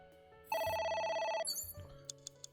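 A telephone rings in the video game AI: The Somnium Files, a loud steady tone of about one second followed by a shorter electronic chirp, then a few faint clicks.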